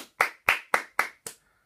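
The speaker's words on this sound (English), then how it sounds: "that was a really awkward applause right there, because it was only me clapping" Five sharp hand claps from a single person, evenly spaced and close, with short pauses between each and nothing else around them.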